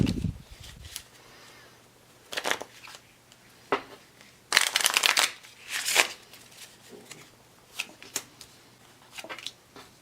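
Playing cards shuffled by hand, a deck riffled and bridged in several quick bursts, the loudest crisp flurries midway, with a low thump at the start and steady faint room hum beneath.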